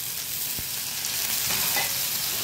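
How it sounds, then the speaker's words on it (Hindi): Capsicum, sliced tomato and long-cut green chillies sizzle steadily in a hot pan as they are stir-fried, a close crackling hiss with a couple of brief scraping stirs and no talk. "हल्का सा इसे भून लेंगे"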